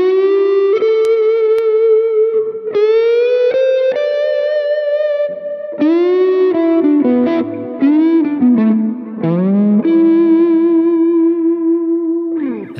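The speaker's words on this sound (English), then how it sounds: "So this is how you scoop into notes with the whammy bar." Electric guitar played with a whammy bar, distorted sustained notes that swoop up into pitch and bend, several scooped phrases with clear effects and reverb, loud and close, no talking.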